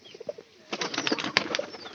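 Pigeons flutter down to scattered feed, a burst of several wingbeats and flapping close by, with soft scuffling and a faint coo between them; no one speaks.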